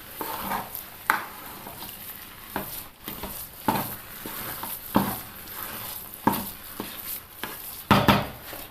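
A spoon stirs food in a pan with a teaspoon of ghee, making soft scraping and clinking strokes in an irregular rhythm over a faint, steady sizzle, close and quiet, with no talking.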